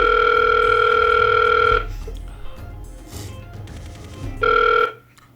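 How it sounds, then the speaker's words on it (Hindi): A telephone on a call being placed gives a steady electronic tone for nearly two seconds, falls quiet, then sounds one shorter burst, loud and close. "मैं इसको भी फोन लगाता हूँ।"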